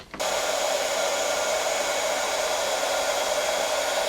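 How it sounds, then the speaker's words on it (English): An embossing heat tool switches on and warms up for heat setting, a loud steady blowing whir like a hair dryer that starts abruptly and runs unchanged, close and alone. "I like to heat up my tool for a long time"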